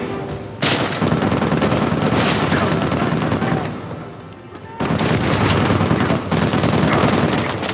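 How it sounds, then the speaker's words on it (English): Rapid bursts of fire from an unfamiliar weapon in the action game Uncharted 4: A Thief's End, loud and dense, running almost continuously with a short lull in the middle before hammering on again. "What is this gun? I've never used this gun before."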